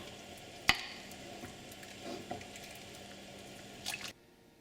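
Korean spicy beef soup, yuk gae jang, ladled into a bowl: a sharp clink, then soft wet drips and sloshing, quiet and close, ending abruptly.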